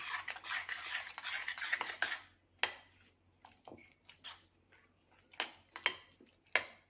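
Raw potato pieces, coriander leaves and salt are mixed in a bowl, with faint, quiet scraping and stirring in quick bursts and a few sharp clicks of the spoon against the bowl.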